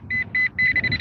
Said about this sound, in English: So this one, turn it on, wait for the beep.